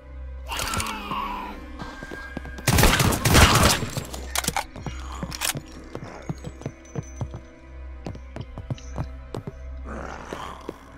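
Gunfire in the video game Deathly Stillness, with a loud burst of rapid shots followed by many scattered single cracks and thuds over a low background hum, some grunting and game noises mixed in.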